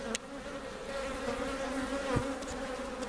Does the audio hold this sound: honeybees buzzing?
yes